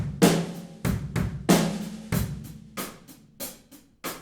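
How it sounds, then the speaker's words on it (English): Acoustic drum kit in an alt-rock style captured only by distant stereo room microphones, with roomy kick and snare hits in a steady groove and cymbal wash ringing through the space. "The stereo room mics by themselves sound like this."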